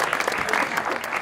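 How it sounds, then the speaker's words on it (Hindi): A studio audience on a talk show claps for a guest's grandfather, a dense burst of applause lasting about a second at steady loudness. "दादा के लिए तालियां।"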